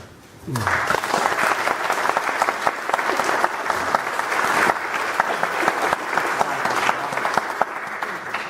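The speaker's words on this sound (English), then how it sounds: "So, applause please for great work." A crowd at a historical society event breaks into loud, sustained applause that carries on steadily for several seconds.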